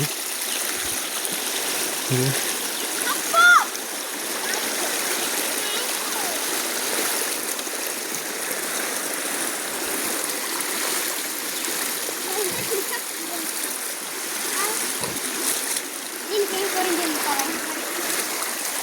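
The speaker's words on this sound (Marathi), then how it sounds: "आपली गावडी नदी तर आता पाणी आलेलं आहे" A river flows steadily with a broad rushing hiss, occasional splashes, and a few faint voices in the distance.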